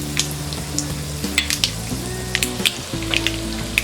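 Chana dal and urad dal sizzle in hot oil with mustard seeds for millet upma, a steady close frying hiss broken by sharp pops and crackles, alongside faint stirring, with no speech.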